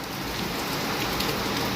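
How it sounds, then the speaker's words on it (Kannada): Heavy rain pours steadily in a rural house setting during the monsoon, a dense, even hiss of drops on surfaces filling the whole moment, close and continuous with no voices. "ಎಷ್ಟು ಚಲೋ ಮಳೆ ಬರಾಕತ್ತೈತಿ"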